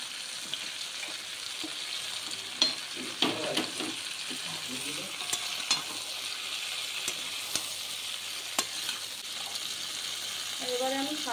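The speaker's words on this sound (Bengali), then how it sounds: "আমি এবারে আলুগুলো দিয়ে দেবো মধ্যে।" Potatoes go into a pan of frying vegetables for Bengali shukto, bringing a steady close sizzle with scattered scraping and stirring clatter throughout.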